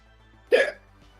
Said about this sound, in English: Hiccups there hurt.